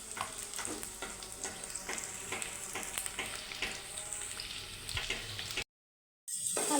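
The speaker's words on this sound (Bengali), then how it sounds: "কড়াই বসিয়ে দিয়ে আলুগুলো একটু ফ্রাই করে নেব" Potatoes frying in a wok, a quiet steady sizzle with clicks of stirring, cut by a short dropout of silence near the end.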